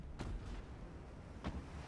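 Two naval artillery guns fire in Ultimate Admiral Dreadnoughts, a pair of quick booms spaced over a second apart against a steady low rumble, fairly faint and at some distance.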